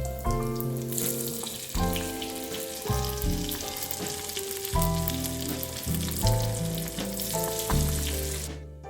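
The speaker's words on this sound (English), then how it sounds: "drop it into hot oil and let it cook in medium heat" Daal pakora (piyaju) balls of lentil batter frying in hot oil over medium heat, a steady dense sizzle with bubbling crackle running throughout under a low background hum.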